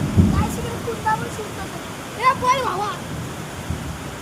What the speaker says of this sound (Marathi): बघा केवढा पाऊस आला गाईस. एवढा पाऊस आला जोर जोरात